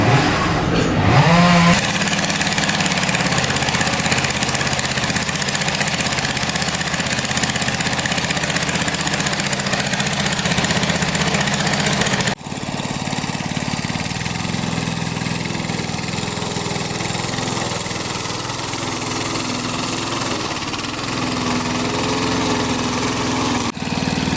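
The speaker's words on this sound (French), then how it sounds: "le moteur est chaud, comme vous avez pu le voir sur la vidéo, elle coupe bien l'herbe" A warmed-up Wolf lawn mower engine runs steadily and loudly throughout, a continuous close mechanical drone that shifts slightly in tone partway through as the load or throttle changes.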